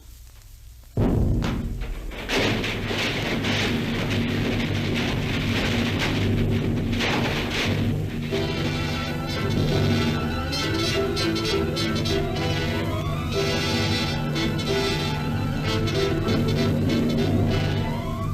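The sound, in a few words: bomb explosion sound effect in a radio drama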